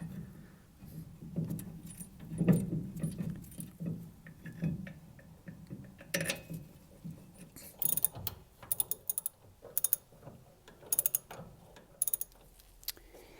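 A ratchet clicks in quick, close bursts while tightening bolts with Loctite and wave washers on a brake caliper of a 1967 Porsche 911, with metallic tool and part clatter between the runs of clicks.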